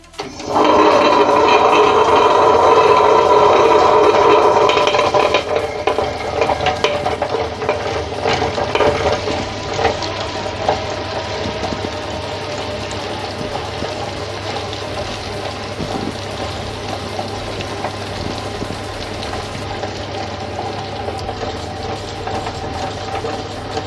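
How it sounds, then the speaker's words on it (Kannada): A wet grinder churns soaked lentils and ingredients into idli chutney batter, a steady loud mechanical whir that starts abruptly, then settles into a continuous hum with a low motor drone, running alone without talk. "ನಾನು ಗ್ರೈಂಡ್ರ್ ಇದೆ, ಗ್ರೈಂಡ್ರಿಗೆ ಹಾಕ್ತಾಯಿದ್ದೀನಿ"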